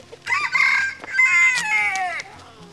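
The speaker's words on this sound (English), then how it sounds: "She's named Crow 2 because she looks just like our original chicken that was named Crow" A hen calls close by in loud, drawn-out squawking bursts, a few strained calls over a couple of seconds, with no talking.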